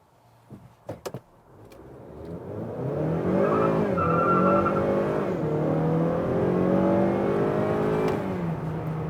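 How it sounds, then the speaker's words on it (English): A 2-liter turbo car pulls away hard on the road with a rising engine roar and squealing tires, sustained and close. A few sharp clicks and thumps come before it. "some of that is the fact the tires were actually squealing under acceleration"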